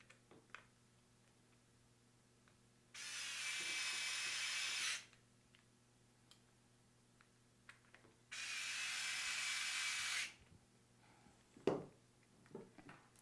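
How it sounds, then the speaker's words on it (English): Electric screwdriver driving four motor screws during a conical grinder motor replacement, two sustained bursts of whirring a few seconds apart, fairly close, with quiet handling clicks and knocks between them. "My electric screwdriver has more than enough power to get these 4 screws tight enough."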